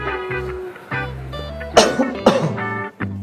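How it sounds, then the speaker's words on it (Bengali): A person coughs several times in quick, forceful bursts, close and loud, between quieter stretches where a low voice or drone continues in the background. "তুমি একটু ঝেড়ে কাশো তো"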